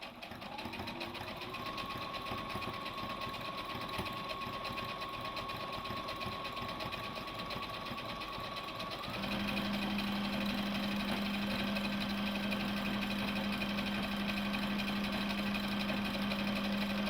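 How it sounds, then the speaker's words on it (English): A combination sewing and embroidery machine runs a back stitch, a steady fast mechanical whir that shifts to a louder, lower pitch partway through and continues evenly to the end. "There's a back stitch too. This is back stitch."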